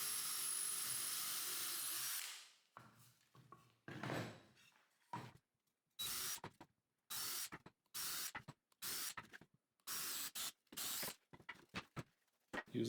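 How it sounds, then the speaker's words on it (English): A power drill with a large bit bores holes through small wooden squares, revving in short, quiet bursts separated by pauses, with one longer whine at the start. "Drill the holes in the squares where you mark the middle with a bigger bit than the screws you'll use"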